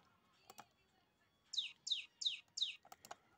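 Four bright, sweeping calls from a singing-contest songbird in a quick even series, close and clear, bracketed by a few soft clicks or taps before and after.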